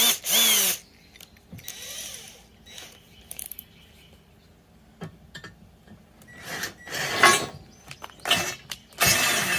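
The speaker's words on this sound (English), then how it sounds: "But they're aluminum, so they're easy to drill." A power drill whirs in several short bursts, biting into aluminum with grinding, rasping noise, interspersed with handling clatter.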